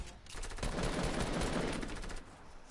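Rapid bursts of gunfire from a multiplayer shooter game ring out loud and dense for about two seconds, then fall away.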